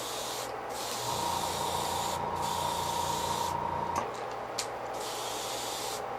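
Aerosol spray paint hisses in several short, close bursts of light coats onto a blank jerkbait fishing lure, over a steady low mechanical hum.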